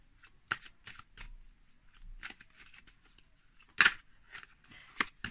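Tarot cards shuffled by hand in a quiet room: a series of crisp, close riffling bursts and soft slaps, irregular in rhythm, with brief silences between.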